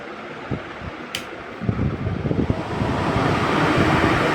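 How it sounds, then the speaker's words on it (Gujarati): An air cooler's fan motor starts and spins up after repair, a broad whooshing rush of moving air building louder over a few seconds after faint clicks and knocks. "અહીંથી ફેન ચાલુ કરશું."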